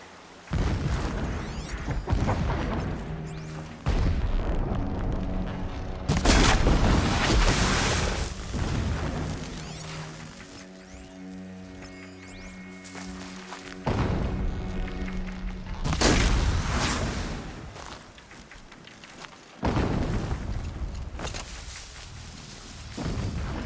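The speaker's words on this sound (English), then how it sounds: "Explosions in the distance." Explosions in the Horizon Zero Dawn video game, a series of heavy distant booms arriving in separated bursts with rumbling tails, several blasts spread across the stretch with quieter gaps between them.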